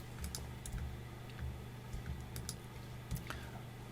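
Quick, light computer keyboard keystrokes and soft mouse clicks, tapped in short irregular bursts at close range over a low steady hum while zooming in navigation software.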